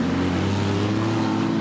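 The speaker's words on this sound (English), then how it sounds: "4 laps to go in the first stock car race of the night" Stock cars racing at Waikaraka Park Speedway, a steady, loud, close engine drone with no pauses and no talk.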